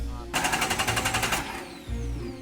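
A Jeep Wrangler TJ engine cranks without catching, a rapid rhythmic chugging of about a dozen beats that stops abruptly, heard close with low background rumble.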